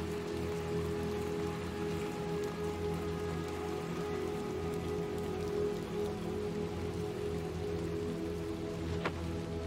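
Steady rain in the video game Little Nightmares 2 pours down without a break, a dense hiss of drops on a surface, with a low constant rumble underneath.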